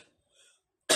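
A single sharp beatbox cough snare, a voice imitating a snare drum with a short cough-like burst, loud and close at the end after faint breathy vocal sounds.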